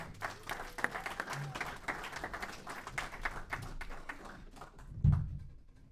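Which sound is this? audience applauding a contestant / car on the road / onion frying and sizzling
audience applauding a contestant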